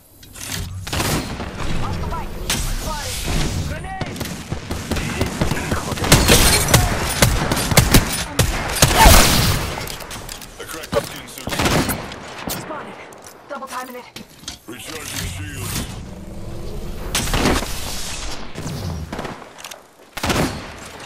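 Bursts of automatic gunfire and booming shots in the battle-royale shooter Apex Legends, loud and dense across the clip with thuds, mechanical clicks and game voice lines layered over the firing.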